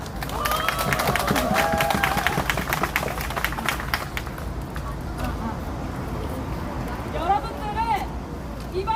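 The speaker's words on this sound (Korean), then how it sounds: "큰 박수와 함성 부탁드립니다." A protest rally crowd of victims of the Tmon and WeMakePrice payment crisis claps and cheers in a dense, sustained roar, with a voice speaking over the noise.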